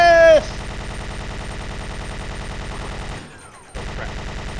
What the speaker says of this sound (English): And Gatling gun. Taste my bullets of justice!